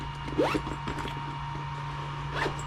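A zipper on an FPV drone backpack pocket is pulled open in a quick rasping stroke, followed by softer fabric handling and a second short zip near the end, close and clear.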